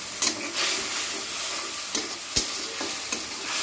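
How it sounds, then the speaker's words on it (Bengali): Cumin seeds, garlic paste, green chili paste, turmeric and salt frying in a wok, a loud, steady sizzle broken by several sharp scrapes and clinks of a spatula stirring the spices. "কড়াইতে কিন্তু জিরা ফোড়ন দিয়ে রসুন বাটা, কাঁচা ঝাল বাটা, হলুদ লবণ সব দিয়েছি।"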